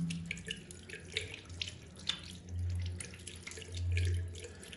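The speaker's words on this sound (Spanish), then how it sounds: "lavarlas con agua para que se caiga el jabón." Tap water runs steadily into a sink as soap is rinsed off hands, a continuous splashing flow with a few louder surges and no voices.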